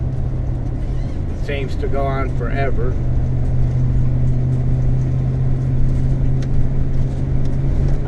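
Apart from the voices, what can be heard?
RV engine in second gear climbing a hill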